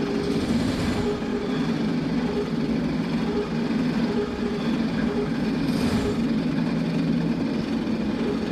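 A train running at full speed in the Trainz video game makes a continuous loud rumble with steady rolling wheel and engine noise, even and unbroken, with no voices.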